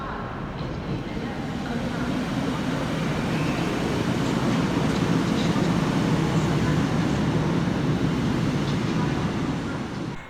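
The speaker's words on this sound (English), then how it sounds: "arriving into the station is 150 130, working the 1109 Northern service from Staley Bridge through to Southport" A two-carriage Northern passenger train, class 150, rumbles in at Manchester Victoria station, a low steady roar building slightly then easing, with faint squeaks and clanks above.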